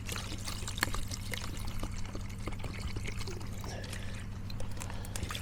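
Water pours steadily into a camping cooking pot in a forest, a continuous close splashing trickle over a low background hum.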